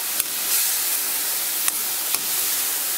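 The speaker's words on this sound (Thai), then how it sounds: "เราก็ ใส่น้ำลงไปในกระทะ" Water hits a hot frying pan that still holds pork, giving a steady broad hiss of steam and sizzle with a few sharp spits, with no talking.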